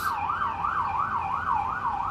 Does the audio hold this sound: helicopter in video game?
no